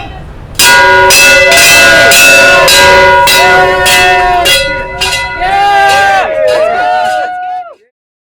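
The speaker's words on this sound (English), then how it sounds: "Ring the bell." A ship's bell on a tall ship rings in a rapid series of about eight loud, bright strokes, its tones ringing on as overlapping voices shout and cheer on deck.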